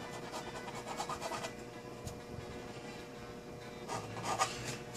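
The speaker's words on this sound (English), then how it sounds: "Now I'll go in the back side of it and just run some sandpaper through it." Sandpaper rubbed by hand over the back side of a plastic model shuttle part, a soft continuous rasping scrape with bursts of strokes near the start and end, close and fairly quiet.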